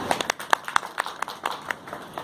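Scattered, uneven hand claps from a small audience at a public speech on storage and pension plans, a handful of separate sharp claps rather than a full round.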